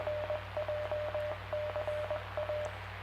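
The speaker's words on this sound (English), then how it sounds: "There's Echo Link making its noise." Repeated EchoLink connection tones on an amateur radio club evening net, a rhythmic run of short beeping pulses in several bursts over a steady radio hum, with no talking.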